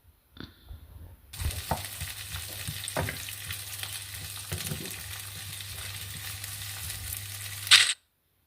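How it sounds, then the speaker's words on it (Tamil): Onion and capsicum sautéing in a pan over high heat, a steady loud sizzle starting after a quiet opening, with a few stirring knocks and a sharp clatter just before it ends. "ஒரு 2 நிமிஷத்துக்கு வதக்கிக்கலாம்"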